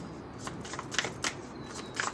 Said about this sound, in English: I'm going to shuffle the ones that I drew